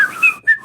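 Human voice imitating a strange whistling alien language, two short high whistled phrases, the first sliding and wavering, the second brief and rising after a tiny pause, clear and close.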